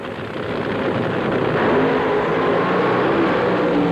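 Drag racing cars at the 1980 US Nationals launch down the strip with a loud, sustained engine roar that builds slightly over a few seconds.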